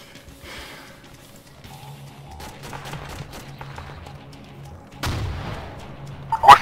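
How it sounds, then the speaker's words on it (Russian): Gunfire in a multiplayer shooter video game set in a Tushino garage area: scattered distant pops and cracks over a low background rumble, ending in a louder burst near the close. "Кто-то из наших стреляет, нет?"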